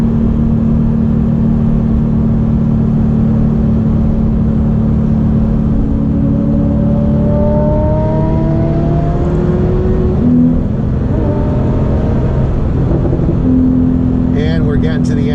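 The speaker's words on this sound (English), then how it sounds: "it's just amazing going up and down through the gears" A Porsche 911 engine revs up and down as it shifts through the gears on a winding road, pitch sweeping upward and then dropping between shifts, loud and continuous from inside the car.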